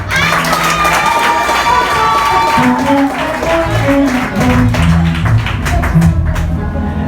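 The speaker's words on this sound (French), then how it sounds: "je vous demande de les applaudir" Wedding guests applauding a newlywed couple as they are introduced, loud, dense clapping and cheering from a crowd, with shouts and music mixed in, sustained throughout.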